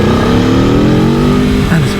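Aprilia RSV4 Factory sport motorcycle roars under hard acceleration, its exhaust note climbing steadily before a quick, seamless dip as the quick shifter changes gear near the end, loud and continuous throughout.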